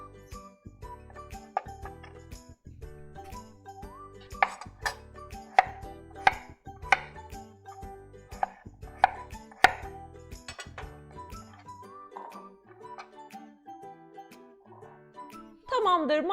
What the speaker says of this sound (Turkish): malzemelerimizi soyduk, doğradık.